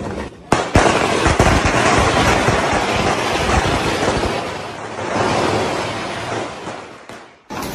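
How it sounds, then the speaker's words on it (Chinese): Strings of firecrackers are set off outdoors to celebrate the end of a lockdown, a loud, dense barrage of rapid cracking pops with a few sharper bangs that rolls on for several seconds before thinning out. "放炮了"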